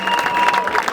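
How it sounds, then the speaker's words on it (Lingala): An audience applauds artists at a funeral ceremony, a steady wash of clapping that holds for the full second at close range, with no speech. "Est-ce qu'on peut applaudir très très fort?"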